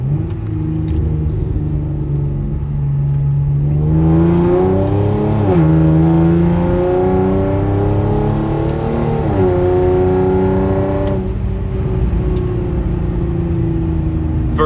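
Inside the cabin of a Hyundai Genesis Coupe 3.8 with aftermarket exhaust: a steady low engine hum swells into a strong rising drone as revs climb through shifts, then settles back to a rumble, loud and continuous.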